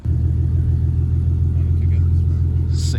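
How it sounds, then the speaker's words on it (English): A Nissan G35 engine fitted with stage 3 cams idles with a steady, deep low rumble that holds loud and constant throughout, with a brief higher hiss near the end. "Sounds like you got stage 3 cams, dude."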